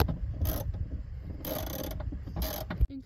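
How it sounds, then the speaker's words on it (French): A seat belt bolt being screwed in by hand inside a VW New Beetle, giving repeated ratcheting clicks in three bright bursts about a second apart, close and fairly loud, ending with a solid clunk. "il va falloir aligner l'écrou avec le trou et le visser."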